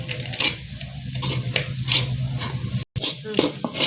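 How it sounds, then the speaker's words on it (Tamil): Steamed raw rice puttu flour is stirred in a pan with steady scraping and rustling, close and continuous, with a brief break near the end. "இதுலேயே எல்லாம் கிளறி விடுவோம்"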